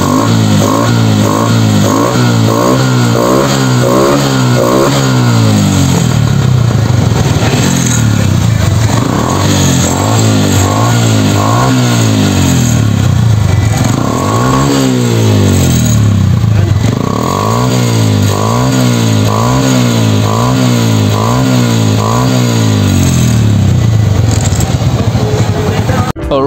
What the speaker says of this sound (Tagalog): rinig nyo naman kung gaano kaganda yung tunog ng ating motor na YTX